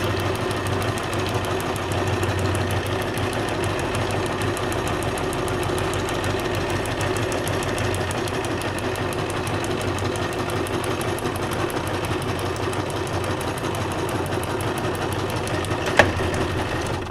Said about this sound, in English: I'm really digging my sewing machine these days.